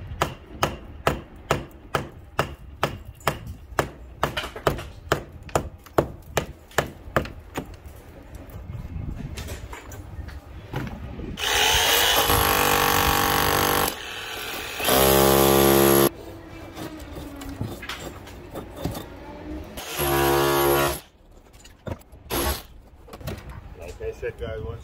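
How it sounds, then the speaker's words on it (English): A hammer knocks bricks out of a brick wall to open a space for a new window: a run of sharp, close knocks in steady rhythm, followed by louder, longer bursts of grinding impact. "As you see, I'm just using my hammer now."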